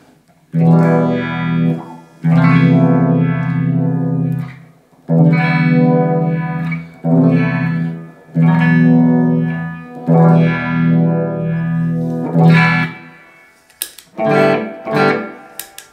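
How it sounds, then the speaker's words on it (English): Electric guitar on a clean channel runs through a Uni-Vibe pedal into a Tube Screamer set to midday on all controls. Sustained, warbling chords ring out in several phrases, loud and alone, ending with a few short plucked notes. "We've got the guitar going into the Uni-Vibe, into the tube screamer."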